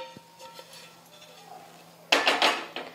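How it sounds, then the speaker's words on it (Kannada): An iron tawa griddle for holige is set down on a home stove, a sudden metallic clank followed by a few rattling knocks after a quiet stretch of kitchen background. "ಹಂಚು ಕಾಯಿ ಕಿಡ್ತೀನಿ ನೋಡ್ರಿ."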